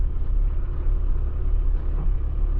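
Low, steady truck engine rumble, continuous and fairly loud at close range, with no speech over it.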